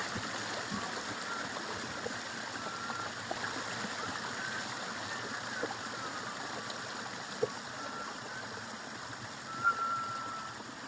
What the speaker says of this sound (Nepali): चिसो पानी स्प्रिङ वाटर छ यहाँ चाहिँ